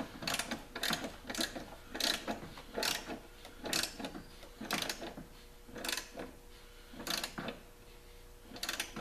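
A hand tool snugs down a bolt on a Jeep dual battery tray, giving a run of close, distinct ratcheting clicks in short bursts at a fairly steady rhythm, with no talk.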